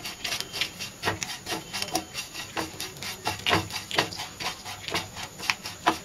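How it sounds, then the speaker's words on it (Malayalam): Bread upma with coconut being stirred and mixed in a pan, heard as a steady run of scraping, rubbing strokes at an uneven rhythm, close and moderately loud with no talking. "നന്നായിട്ട് മിക്സ് ചെയ്യുക."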